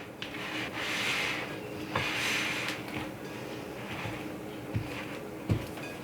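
A spoon works through stiff gluten-free blondie dough with cranberries and white chocolate, giving repeated rubbing, scraping strokes against the bowl with a few soft knocks, and no talking.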